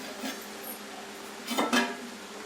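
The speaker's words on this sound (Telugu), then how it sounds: "మూత తీసి చూద్దాము." A lid comes off a pot of simmering fish curry with a brief metallic clink and scrape, close by, over a quiet kitchen background.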